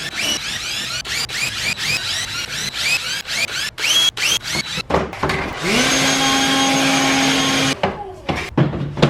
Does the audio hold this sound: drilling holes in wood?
yes